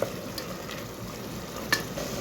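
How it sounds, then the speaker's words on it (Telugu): Curry with coriander being stirred in a hot pan, a steady close scraping and sizzling that runs continuously, with one brief sharper clink partway through and no talking. "కొంచెం ఈ ఫ్లేవరు కలిసే వరకు దగ్గర చేసుకుందాము కర్రీని"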